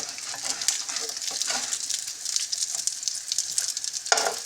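Chicken nuggets frying in a pan, a steady bright sizzle with crackling pops throughout and a louder spurt near the end.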